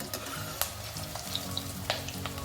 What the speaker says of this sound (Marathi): मग आपण कमी तेल घेतलेले वडे तेलात बुडतील एवढं तेल काही घेतले नाही शॅलो फ्राय करतोय आपण